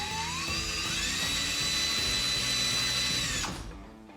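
Power drill spinning a bit in a workshop while a Harley-Davidson exhaust is being fitted, a high steady whine held for several seconds before winding down abruptly at the end.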